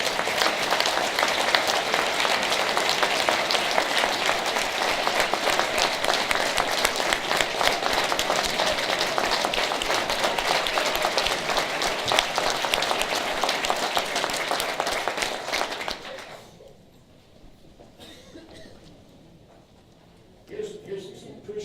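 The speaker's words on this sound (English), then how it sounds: "How about a big round of applause?" An audience breaks into dense, loud, sustained applause that fills most of the moment, then drops away abruptly to near quiet before a brief noise at the end.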